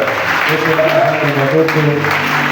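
A church congregation claps together in steady, sustained applause filling the room, with voices mixed in among the crowd.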